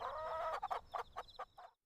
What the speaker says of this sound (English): They clucked softly.